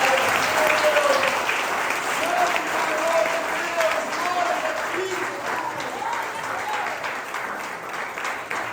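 A church congregation applauds during a sermon, a dense, steady wash of clapping that holds for several seconds while a voice talks over it.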